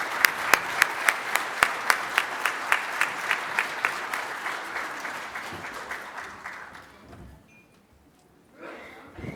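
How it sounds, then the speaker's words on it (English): An audience at a conference on Métis self-governance claps, opening with a few sharp, evenly spaced claps that give way to steady applause, which fades out and then briefly swells again. "Let's give a final round of applause to these two gentlemen"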